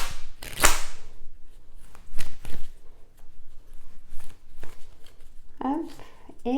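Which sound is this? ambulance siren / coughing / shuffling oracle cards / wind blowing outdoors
shuffling oracle cards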